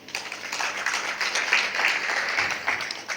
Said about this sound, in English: We can clap hands for the Story Club.